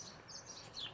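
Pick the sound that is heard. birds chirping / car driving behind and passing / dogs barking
birds chirping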